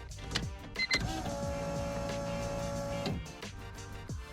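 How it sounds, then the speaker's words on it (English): A car fuel pump gives a steady electric whine with a constant tone, droning for a couple of seconds between brief clicks and clunks, loud and close. "Oh man, that fuel pump's so loud."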